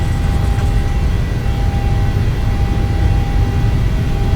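A PMDG 737-700 jet rolls for takeoff in Microsoft Flight Simulator 2020, a loud steady roar of engines and a low rumble of rolling that hold without a break throughout, with no voices.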